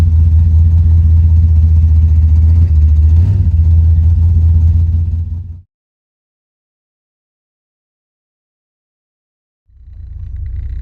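A newly installed engine in a Chevrolet Camaro runs loud and close with a deep, steady rumble and a brief rise in revs. It then cuts out to silence for several seconds before rumbling back in near the end.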